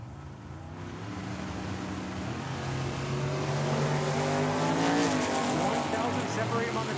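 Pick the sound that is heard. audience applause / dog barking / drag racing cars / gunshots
drag racing cars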